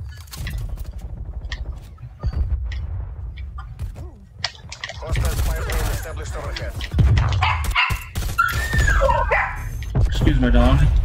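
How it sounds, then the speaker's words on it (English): A pet dog barks and yips in short bursts indoors during an online Call of Duty game, mixed under steady talk and game sounds rather than standing alone. "Please excuse my dog."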